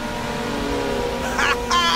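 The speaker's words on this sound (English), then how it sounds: "Someone fired off some nitrous!" A race car in Ridge Racer 6 on Xbox 360 drones with a steady engine hum, then surges twice in sharp revving bursts as the nitrous boost fires. A voice is heard over the engine.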